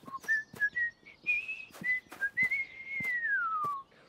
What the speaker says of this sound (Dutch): Budget kan fluiten zonder een pakje sap.